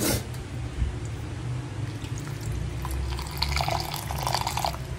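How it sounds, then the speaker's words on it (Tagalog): Water pours and trickles into a bowl of cornstarch at close range, a continuous watery splashing with small drips, and no one speaking. "Tapos nilagyan ko lang ng tubig, halu-haluin."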